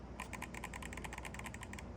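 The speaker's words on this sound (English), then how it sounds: "they're mechanical switches as well" Mechanical trigger-stop switches on a Razer Wolverine V2 Pro PS5 controller click in a rapid, steady series of sharp, close, fairly loud clicks, about a dozen in two seconds, with no talking.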